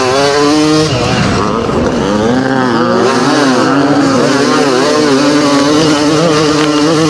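Vintage Honda 500 CR two-stroke motocross bikes race hard, their loud engines screaming and revving close by in overlapping, wavering tones that rise and fall continuously as they charge across the track.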